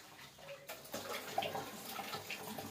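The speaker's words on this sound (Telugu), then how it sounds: "అవన్నీ బాగా కడిగేస్తున్నాను" Ingredients being washed by hand in a vessel of water before grinding, with soft swishing and splashing that starts after a short quiet moment and continues steadily at close range.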